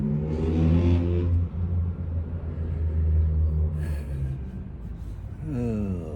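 A nearby car engine rumbles loudly with a deep exhaust drone, rising briefly as it revs, then settling.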